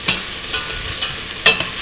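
Onions and garlic frying in a pan while being stirred, a steady close sizzle with a couple of brief scraping stirs, no voices.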